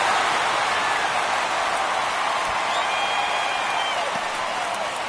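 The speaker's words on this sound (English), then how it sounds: "you can feel this crowd waking up a bit here" A baseball crowd roars and cheers after a base hit that drives in a run, forming a broad, distant wash of noise that stays loud and fairly even throughout.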